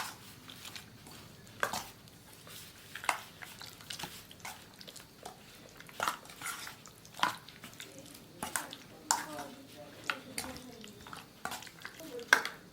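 Chicken tikka marinade with kasuri methi being mixed in a bowl, soft intermittent scraping and clinking of a spoon against the dish, quiet and close with brief pauses between strokes.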